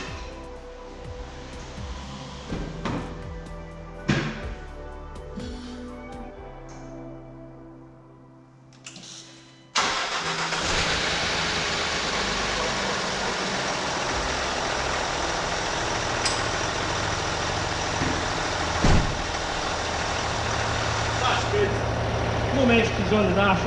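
Range Rover Sport with its EGR valve stuck closed cranks and fires up, settling into a steady, loud idle close by after a quieter stretch with someone talking.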